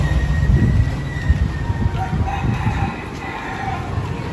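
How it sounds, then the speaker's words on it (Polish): Roosters crow faintly in the distance over steady street noise and a low rumble, the calls thin and partly masked by the busy background. "Koguty pieją."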